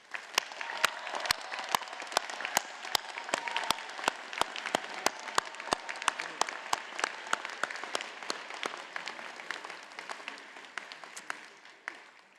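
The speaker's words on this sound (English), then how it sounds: "So I would like to give them a big round of applause as well." An auditorium audience at a commencement ceremony applauds, with sharp distinct claps standing out near the microphone over a thinner background of clapping that carries on for about twelve seconds.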